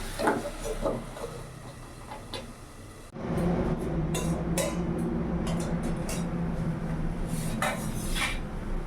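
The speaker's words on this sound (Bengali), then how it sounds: "এবার কিছুক্ষণের জন্য আমি ঢাকা দিয়ে দেবো" A lid drops onto a pot of fenugreek greens with a sharp metallic clatter after some light clinking. Then comes a steady, muffled cooking hiss under faint occasional ticks, close by and with no voices.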